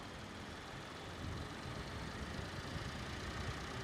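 A steady three-cylinder 1.2-litre petrol Suzuki Swift engine drone, swelling slightly louder after the first second, as if revved lightly; continuous broadband rumble with no voices.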